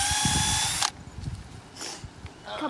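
A loud power drill whines steadily for just under a second while drilling a hole into a pole, then stops, leaving low rustling and handling noises with a brief hiss afterward.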